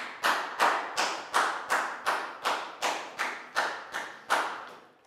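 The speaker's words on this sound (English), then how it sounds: "High five and a big round of applause for Bang Pon" Classroom applause for a student in a Year 4 maths lesson, heard as about a dozen evenly spaced, close, loud rhythmic claps or thumps, each decaying quickly before the next.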